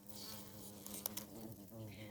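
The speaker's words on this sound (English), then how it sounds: "a wasp came down and it grabbed a bee" Wasp and bee buzzing close by as a wasp seizes a bee on the ground outdoors, a steady droning hum with a few brief louder wingbeat bursts midway.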